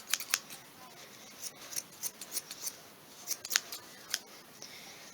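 Scissors snip through fabric in short, crisp cuts, some in quick pairs, spaced irregularly and close up against a quiet background.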